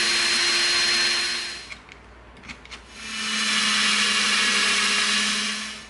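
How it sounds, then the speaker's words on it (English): Power drill boring into the EVA foam of a Star Trek phaser rifle prop, a steady loud whir for about two seconds, then a short quieter pause with small bumps, then the whirring drill runs again continuously to the end. "we're gonna be drilling into here so that we can feed this in"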